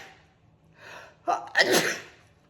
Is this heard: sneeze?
yes